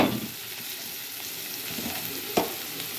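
Chopped tomatoes dropped into a pan of curry frying with chili powder and turmeric for a broad bean and tomato curry, giving a steady close sizzle with a brief clatter near the end.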